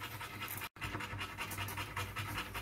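A newborn puppy in a litter of thirteen pants in quick, steady breaths, close and continuous, with a faint scratchy rustle and one brief dropout partway through.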